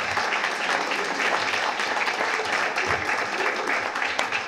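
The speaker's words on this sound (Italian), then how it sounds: "Facciamogli un'altra applauso" Sustained audience applause at a Christmas-season closing event after a nativity performance, dense crowd clapping that stays steady and fairly loud, with faint murmurs of voices mixed in.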